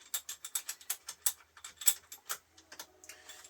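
A ratchet loosens the bracket bolts on an electric bike during assembly. The rapid clicking runs close and quiet, stops briefly, and resumes as irregular clicks.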